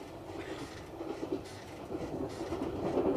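Steady rumble of a train rolling over the tracks, a continuous rattling drone that swells slightly toward the end.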